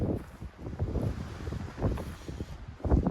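Strong desert wind buffets an outdoor microphone in Arizona, a steady low rumbling roar with gusty swells throughout and no voices.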